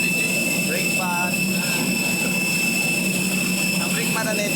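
A Philippine Airlines jet airplane's engines hum in a steady, loud roar with a high whine, while voices talk faintly underneath.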